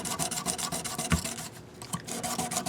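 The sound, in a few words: fine-grit sandpaper lightly rubbing guitar frets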